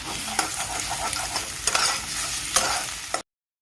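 An egg frying in hot oil and ghee with chillies, onion and garlic, a loud continuous sizzle broken by several sharp stirring scrapes, close by with no talking.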